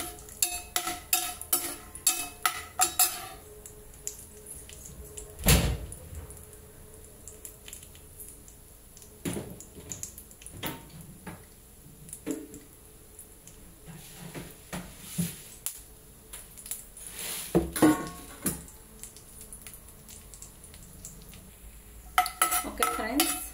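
Vermicelli and dry fruits are stirred and fried in ghee in a pan, with a metal spoon clinking and scraping against the pan in irregular bursts over a faint background.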